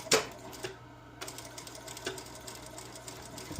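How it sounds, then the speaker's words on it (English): A sewing machine stitches jacket front and back panels together for a modern sukajan, a steady low mechanical whir running throughout with a few sharp clicks and knocks, fairly quiet and close. "just keep sewing this, same as the other one, until you get to the cuff"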